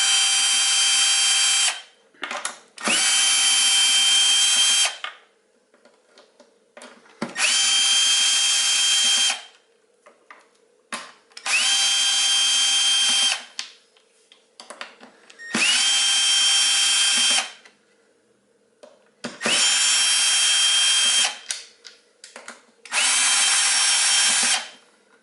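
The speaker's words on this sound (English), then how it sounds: "So I will use my electric screwdriver." An electric screwdriver backs screws out of a Sur Ron electric bike's top cover, six loud whirring bursts of a few seconds each separated by short quiet pauses, close up.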